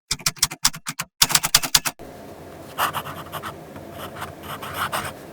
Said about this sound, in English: The next writing sample is done in a composition lab notebook.